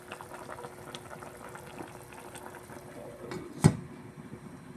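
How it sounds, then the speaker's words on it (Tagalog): Paksiw simmers at a steady boil in a pot, with a soft continuous bubbling and a single louder clunk near the end. "kumukulo na yung ating paksiw"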